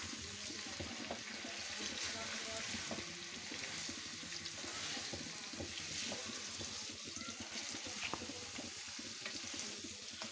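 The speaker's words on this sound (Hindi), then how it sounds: "इसको अब हम लो फ्लेम पर भूनेंगे।" Chicken karahi with tomato, salt and chili masala being fried on a low flame, a steady, dense sizzle with stirring and scraping running throughout at close range.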